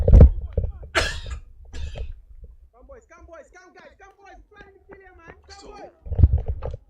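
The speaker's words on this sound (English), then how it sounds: "Sorry for the coughing" A cricket commentator coughs in harsh bursts at the start and again near the end, close to the microphone, with talking in between.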